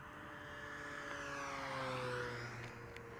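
An E-flite P-51D Mustang 1.5m RC airplane makes a fast, low downwind pass at dusk, its electric propeller whine rising and then sliding down in pitch as it sweeps by at steady loudness, with no talking.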